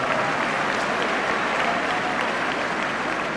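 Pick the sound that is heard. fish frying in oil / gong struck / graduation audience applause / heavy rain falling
graduation audience applause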